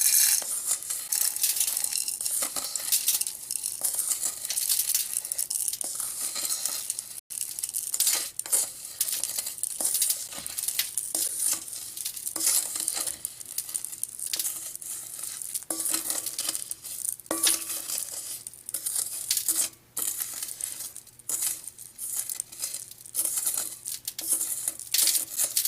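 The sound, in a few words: scraping aggregate mix back into a bowl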